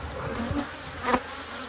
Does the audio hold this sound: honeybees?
yes